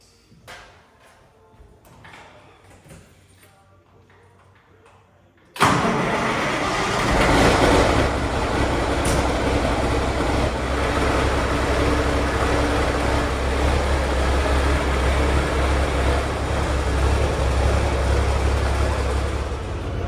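A truck engine cranks and catches after some quiet handling noises, then settles into a loud, steady, close-up rumbling idle that carries on to the end.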